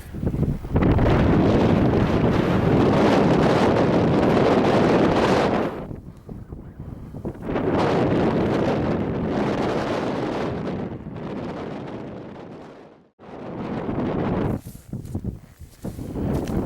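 Strong wind buffets the microphone on an open Scottish mountainside, loud roaring gusts with brief lulls between them, no voices present.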